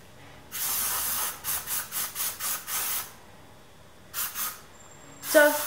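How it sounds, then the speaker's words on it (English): Finishing hairspray hisses from a can in one long burst followed by a string of short rhythmic pumps, then a pause and two more short sprays, close and clear with no talking. "I'm going to finish things off with the finish spray"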